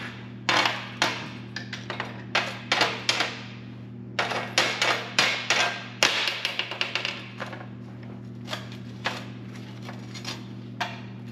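A hammer chips slag off a fresh stick weld in a home welding shop, striking in quick bursts of sharp metallic taps, close and distinct over a steady low hum.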